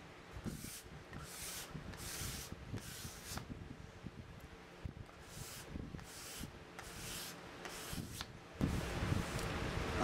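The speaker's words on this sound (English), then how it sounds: "Do a little card scraping on my joints here before I cut this top out." Card scraper pulled in repeated short strokes across glued wooden joints on a pedestal table top, giving a dry scratchy rasp with brief pauses between passes, close and fairly quiet, then a louder scrape at the end.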